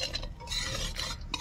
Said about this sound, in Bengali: কিশমিশ সুন্দর ভাজা হয়ে গেছে